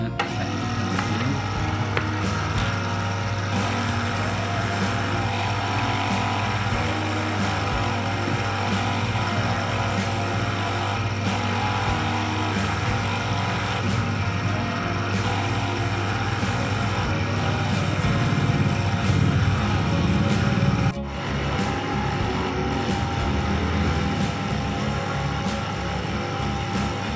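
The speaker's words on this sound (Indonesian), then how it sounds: "Seperti ini sahabat, kita tempelkan di mesin penggosok." An electric sanding machine fitted with 400-grit sandpaper, working on stone, runs with a steady, continuous motor drone for nearly half a minute, close and loud, with no voices.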